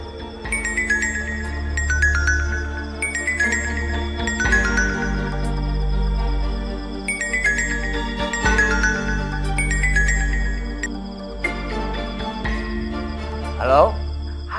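A phone ringtone plays a bright, repeating chiming melody while a call is placed to the neighbourhood chief, sounding steadily over a low background bed with a faint swell near the end.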